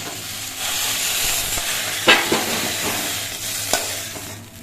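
Okra fries in a wok for a couple of minutes, giving a loud, steady sizzle with a few sharp stirring scrapes and clatters close by.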